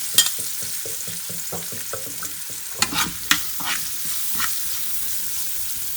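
Mixed vegetables seasoned with salt, red chili and black pepper fry in a pan for cheese crepes, a constant sizzle beneath quick rhythmic scraping stirs that turn into a few louder knocks of the spatula, nearby and with no talk.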